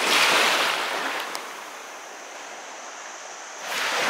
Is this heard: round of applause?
no